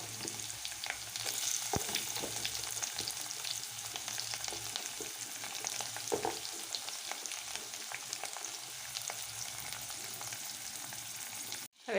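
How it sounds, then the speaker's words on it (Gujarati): Mustard seeds, asafoetida and cumin crackle and sizzle in hot oil before chopped bottle gourd goes in, a steady close frying hiss with stirring scrapes, no voices, ending abruptly. "હવે આપણે રાઈથી વઘાર કરીશું। હિંગ અને જીરું નાખીશું અને દૂધી સુધારી લીધી છે તે એડ કરી દઈશું"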